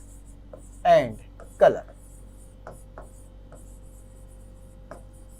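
Handwriting on a board during a Hindi surface chemistry lecture, faint scratchy strokes in short bursts beneath a teacher's speech.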